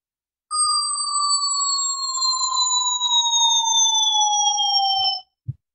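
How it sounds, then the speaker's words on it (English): A synthetic high-pitched bell tone generated in Cool Edit, one sustained ringing note with clear overtones that slowly glides down in pitch for about five seconds, then cuts off, followed by a brief soft click. "right, okay, we've got some bell sounds now."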